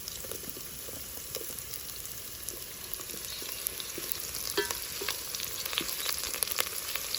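Green chillies fry in a pan with a soft, continuous sizzle and scattered small crackles and pops that grow slightly busier over time, heard at a moderate distance.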